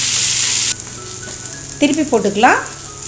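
Raw plantain (valakkai) slices roasting in oil poured around the pan give a loud, steady sizzle that suddenly drops to a quieter crackle, followed by a brief stretch of voiced speech over the softer frying.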